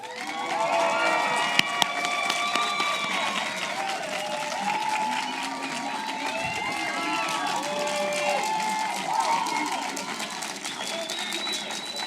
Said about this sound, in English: This is a great time to applaud again.